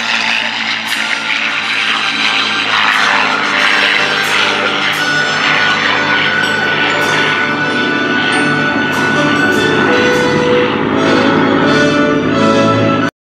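P-51 Mustang flying an airshow demonstration at Sun 'n Fun, a loud, steady propeller engine roar that holds for the whole stretch, with faint commentary in the background.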